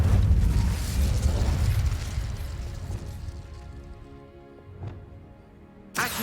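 A fire spell bursts in Hogwarts Legacy with a loud rumbling blast that slowly fades, followed by a small pop and then a sharp fresh crackle at the end.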